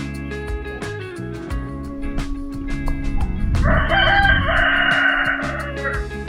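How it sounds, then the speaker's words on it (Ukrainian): A rooster crows loudly and close by on a farmstead, one long drawn-out call rising in the middle, over a background of other farmyard noise. "півні співають"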